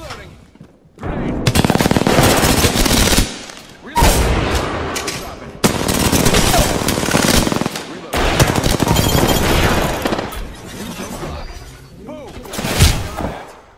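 Video game gunfire roars in long, loud automatic bursts separated by short pauses, with game voice callouts mixed in.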